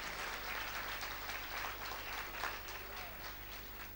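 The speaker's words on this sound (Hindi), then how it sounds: "जोरदार ताली बजा के प्रभु को धन्यवाद दीजिए।" A church congregation at a Hindi sermon breaks into loud, sustained applause, a dense wash of clapping that holds steady throughout with faint voices mixed in.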